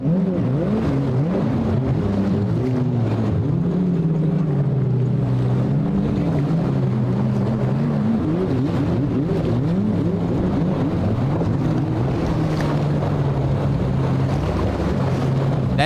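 A big jet ski latched into a boat platform motors across open water, its engine droning steadily with shifting pitch under constant wind rumble and wave wash.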